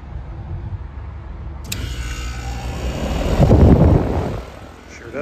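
An HVAC condenser fan motor kicks on with a sudden hum as the contactor is bumped, and the fan whir swells into a louder rumbling drone before easing slightly, heard up close.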